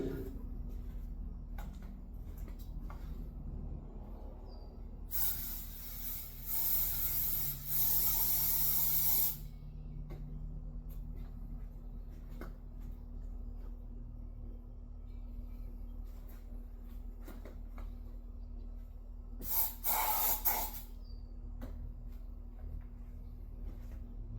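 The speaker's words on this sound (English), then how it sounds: "I want to brake cleaner this out real quick" Brake cleaner sprayed onto a disassembled Husqvarna 450 dirt bike engine lower end in a workshop, two separate hissing bursts, a longer one and a shorter one, over a quiet background hum.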